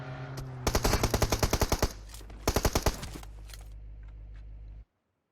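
Enemy gunfire in PUBG Mobile: two tight bursts of rapid automatic shots ring out, loud and close, over a steady low rumble, with a short gap between volleys.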